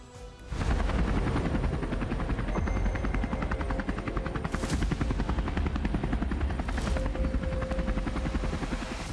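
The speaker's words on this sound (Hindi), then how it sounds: "केदारनाथ धाम पर क्रैश होने से बाल बाल बचे इस हेलीकॉप्टर के कई वीडियो सोशल मीडिया पर वायरल हैं।" A helicopter at the Kedarnath Dham helipad, its loud, steady rotor chop and turbine roar running continuously and close throughout, with no talk over it.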